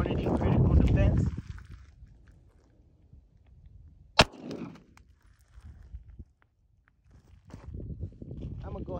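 A pistol fires a Hornady Critical Defense round into a bulletproof vest, giving one sharp, loud crack in the middle, with people talking before and after it.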